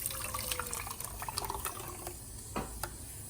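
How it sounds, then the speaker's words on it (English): Water trickles and splashes softly into a container of tomato puree, with a few small drips and gurgles, close and fairly quiet. "Add little water to it, so you can take every single bit of it."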